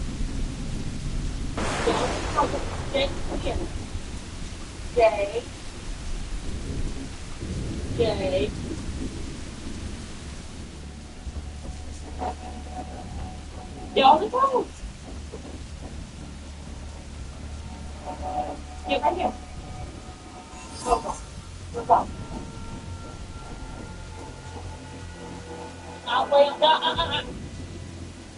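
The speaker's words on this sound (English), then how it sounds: "It's pouring rain in Havana" Heavy downpour with rolling thunder in Havana in Assassin's Creed Black Flag, a steady wash of rain under frequent close voices and game sounds, with a few louder thumps.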